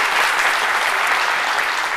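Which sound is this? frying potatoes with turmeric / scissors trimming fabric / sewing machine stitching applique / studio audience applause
studio audience applause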